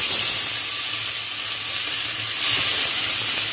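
Fish frying in hot oil in a home kitchen, a steady loud sizzling hiss that holds throughout with no talking.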